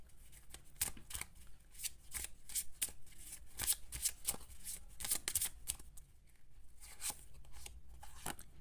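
Tarot prediction cards are shuffled up close, giving a steady run of crisp riffling snaps and flicks at a quiet level, with no talking.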